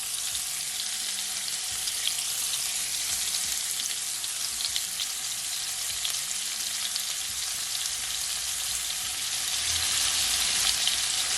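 Shrimp sizzle and crackle in a hot pan for garlic shrimp noodles, a dense, steady hiss of frying oil with little pops, close and constant, no talking.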